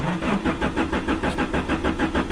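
Car engine cranking as it tries to start, a rapid rhythmic churning of the starter that pulses steadily, close and fairly loud, without catching.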